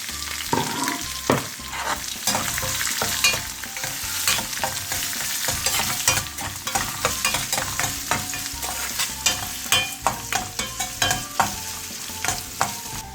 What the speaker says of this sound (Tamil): இந்த டைமில் பச்சை மிளகாவையும் போடுறேன், இஞ்சி, கருவேப்பிலை.